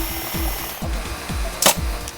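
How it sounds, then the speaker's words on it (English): Power tools in a high school workshop classroom, likely a drill, give off repeated short bursts of low thumping and whirring, with a sharp hiss near the end. "Very heavy power tools, the saw, the drill, nail gun, a lot of dangerous stuff."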